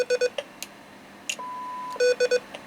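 Electronic beeps from a Kenwood TM-741 radio transceiver in quick clusters of two or three short tones, with a longer steady tone in the middle, clear against a quiet hiss.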